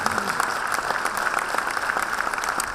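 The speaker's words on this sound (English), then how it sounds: "Ladies and gentlemen, a big round of applause to these amazing talents." An audience at a school's 25th anniversary celebration claps steadily and densely throughout, a sustained round of applause honouring young performers, with no voices standing out.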